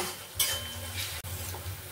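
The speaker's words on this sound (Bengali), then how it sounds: "তেল গরম হয়ে গেছে, এবার আমি পেঁয়াজগুলোকে ভেজে নেব।" Sliced onions frying in hot white oil in a wok, a steady close sizzle with a brief scrape of stirring partway through.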